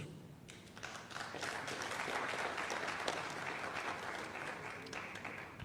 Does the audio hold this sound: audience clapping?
yes